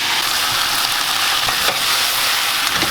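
Onion and thin-sliced pork belly stir-frying in a hot pan, a steady close hissing sizzle with faint scraping and stirring taps throughout, no voices.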